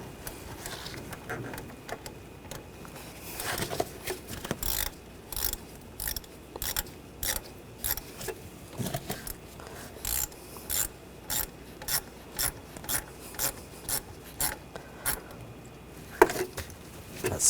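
A hose clamp is tightened on the air intake snorkel of a 2013-2022 Buick Encore, with a steady run of short, evenly spaced ratcheting bursts close by, ending in a slightly louder clack. No speech.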